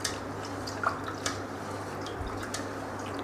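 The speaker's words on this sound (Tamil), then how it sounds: "இது நல்லா கழுவி களைஞ்சி எடுத்துக்கங்க." Rice being washed by hand in a small amount of water, with soft wet drips and squishy sloshes, a few brief splashy accents standing out over quiet background.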